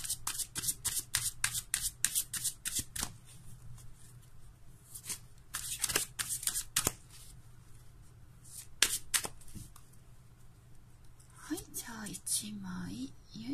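Playing cards shuffled and drawn for a tarot-style reading: quick bursts of riffling and flicking cards close by, separated by quieter pauses and soft handling, with a voice talking faintly near the end.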